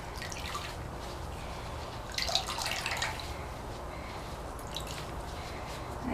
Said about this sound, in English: squeeze as much of the dye out into the bucket before I rinse it.